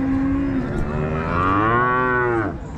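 A six-month-old Holstein Friesian calf at a cattle market in Akluj gives one long, loud, close moo that climbs in pitch and holds before cutting off near the end.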